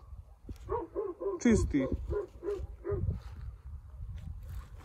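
A dog barks in a rural outdoor setting, a rapid run of about eight sharp, close barks followed by a few fainter yips, with someone speaking alongside.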